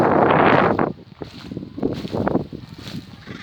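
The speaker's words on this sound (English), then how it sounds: "windy today." Wind blowing across open marshland at Swanscombe, a loud buffeting gust that drops after the first second into softer, uneven rushing and flutter against the microphone.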